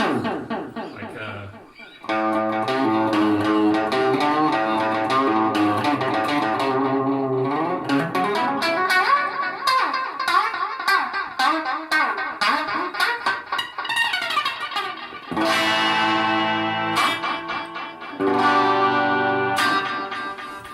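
Electric guitar run through delay and looper pedals, sustained chords and notes ringing out with echoing repeats and layered effects, steady and fairly loud throughout with brief pauses.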